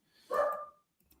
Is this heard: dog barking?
yes